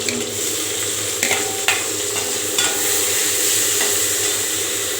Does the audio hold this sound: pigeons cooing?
no